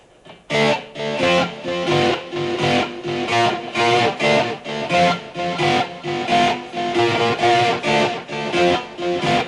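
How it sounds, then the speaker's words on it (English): Distorted electric guitar plays an 80s glam metal riff with a delay effect on, repeating notes trailing after each stroke in a steady, loud, dense pattern with no talking. "I'm going to put the delay on right now."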